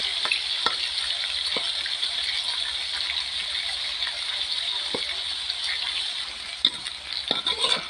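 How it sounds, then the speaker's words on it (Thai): Eggs being stir-fried with pork in a hot pan, a steady close crackling sizzle throughout with occasional scrapes and taps of the spatula, no talking. "แล้วเราก็จะพัดไข่ ไข่เขาจนแข็งนะคะ แล้วก็คลุกกับหมูลงไปค่ะพัดคลุกเข้าให้เข้ากันค่ะ"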